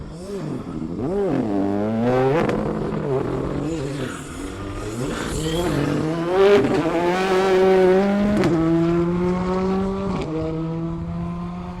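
Race cars roar through a Melbourne time trial stage, engines revving and climbing in pitch through gear changes, loud and close in a sustained, continuous drone.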